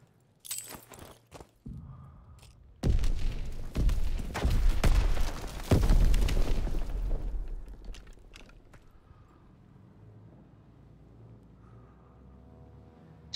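A grenade explosion in a video game: a heavy, booming blast with rumbling debris that fades over several seconds, following a few sharper knocks and thuds, with no voices.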